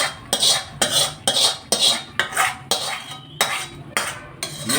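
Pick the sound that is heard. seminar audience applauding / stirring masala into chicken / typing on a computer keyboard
stirring masala into chicken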